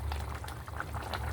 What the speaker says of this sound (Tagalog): Kumukulo na siya. Ang ating beef brisket.